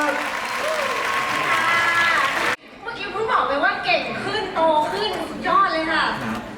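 Crowd at the GMMTV "one สนั่นจอ 2024" event applauds the company's chief executive with loud, dense clapping for a couple of seconds. It cuts off abruptly, then talk and tonal, sung-sounding voices follow.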